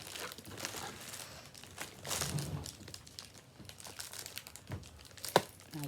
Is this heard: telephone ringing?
no